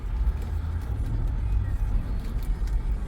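A 2011 Suzuki Kizashi AWD with 73,000 miles drives along with a steady low engine and road rumble heard from inside the cabin, continuous and even.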